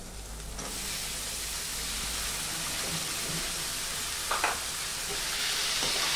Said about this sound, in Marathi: आता आपण याच्यामध्ये घालणार आहोत बारीक चिरलेला टोमॅटो